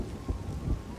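Thunderstorm in the game Everybody's Gone to the Rapture: low rumbling thunder pulses twice beneath steady rain, close and fairly loud over a brief stretch.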